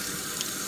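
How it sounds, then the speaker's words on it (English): Water runs steadily from a faucet over a removed RC car tire rim being rinsed in a sink, a short, constant hiss close by with no voices. "Give it a little rinse, okay?"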